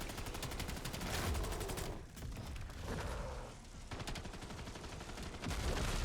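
The Mangler cannon fires in the Cursed game mode of Call of Duty, buried in loud, dense gunfire and booming blasts that run almost unbroken, with only brief dips in intensity.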